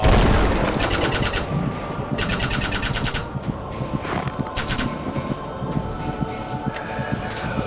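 Rapid bursts of automatic gunfire from a video game, loud and close, coming in repeated rattling volleys with short gaps between them and dense game noise underneath.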